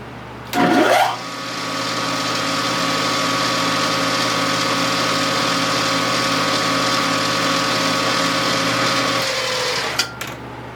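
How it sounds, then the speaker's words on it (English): Power drill with a 120 bit drilling a pushrod guide, a loud motor whine that starts with a short burst, holds steady for about eight seconds, then winds down to a stop. "I just want to make sure I'm drilling in the right side here, orientated right."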